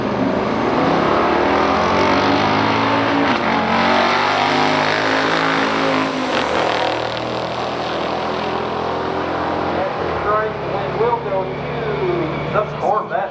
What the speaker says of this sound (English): Sharon Maher out of Freeland, Michigan, 70 Challenger, RT 444 speed, going up against Berlin Elliott out of Kingston, Tennessee, 69, 396 Corvette